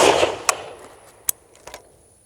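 FN FAL rifle fitted with a DSArms muzzle brake firing, a loud close blast followed by a couple of sharp echoing cracks that fade into outdoor quiet.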